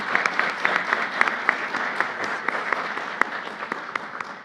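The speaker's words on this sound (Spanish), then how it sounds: "Pido un aplauso, por favor," Audience applauding a speaker at a seminar panel on the accusatory penal system, steady dense clapping from a room full of people with sharp individual claps standing out, continuous throughout.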